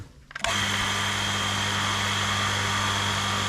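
A vacuum compressor's new motor switches on abruptly and runs with a steady mechanical whir and hum, constant and close, without speech.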